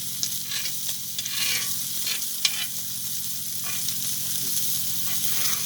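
Beef tenderloins with butter, garlic and salt sizzle steadily in a hot pan, a close, continuous frying hiss with occasional soft scrapes and pops, and no one speaking over it.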